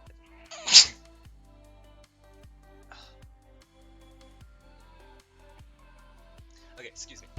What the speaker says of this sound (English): One second, I'm gonna sneeze.